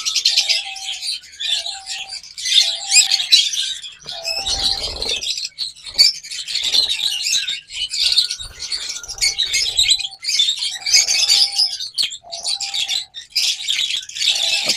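A pair of green opaline lovebirds chirp in dense, continuous high-pitched twittering, with repeated short tonal calls and occasional low thumps, close and fairly loud throughout.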